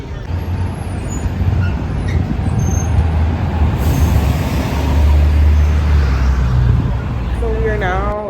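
A city bus rolling through New York streets, with a loud continuous engine rumble and road noise up close, a brief high hiss of air brakes partway through, and a squealing brake whine at the end.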